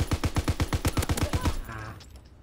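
Rapid burst of video game gunfire, about a dozen sharp evenly spaced shots over a second and a half, loud and close, then cutting off into low ambient rumble.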